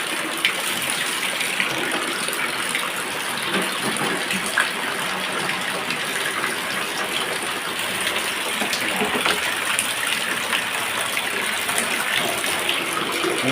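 Water gushes steadily and continuously, filling storage containers, with a hissing rush that never lets up.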